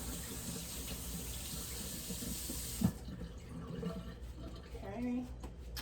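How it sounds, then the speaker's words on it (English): Tap water runs steadily into a sink as chalky hands are rinsed while making bath bombs, a continuous close hiss that cuts off about halfway through, followed by quieter room sounds. "I'm going to rinse my hands off because they are really"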